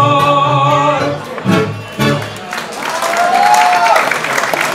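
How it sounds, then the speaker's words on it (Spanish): An audience applauds after a live tango performance, a broad wash of clapping that rises as sustained musical tones fade out, with a voice briefly audible over the crowd. "Fuerte el aplauso para todos ustedes que están disfrutando esta noche maravillosa"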